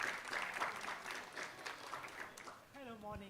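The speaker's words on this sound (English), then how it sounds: "Let's give a huge round of applause." Applause from an audience at a college media conclave, a dense crowd patter through most of the moment that fades as a voice begins speaking near the end.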